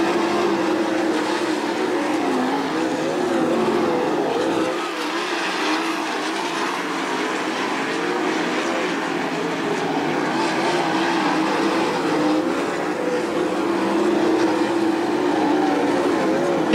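Sprint cars race around a dirt track during a heat race, their engines a continuous, loud roar that swells and fades slightly as the pack circles, heard at a distance with no commentary over it.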